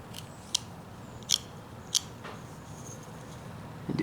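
Scissors cut through pants fabric with three sharp, close snips spaced about half a second apart over a quiet low rumble, then a fainter rustle at the end, with no talking.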